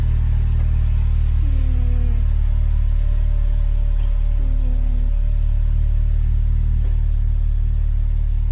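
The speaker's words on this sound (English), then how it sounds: "So I'm going to attempt to drive the Type R." Honda Civic Type R engine with manual transmission, a steady low rumble of the car idling and moving, with a couple of brief rising tones partway through and no talk.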